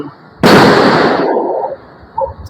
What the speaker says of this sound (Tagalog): Wala pa alas 12, nagaputokan na.